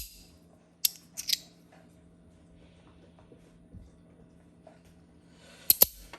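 A Compoform fidget slider is slid with a scratchy, screechy action, making a few sharp, brief scraping clicks early and two more near the end, separated by quiet stretches.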